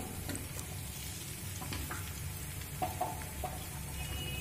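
A spice paste ground in a mixer is frying with fried onion in a pan for a masoor dal and pointed gourd dish. It gives a soft, low sizzle with occasional faint clinks and stirring sounds, and no one speaks.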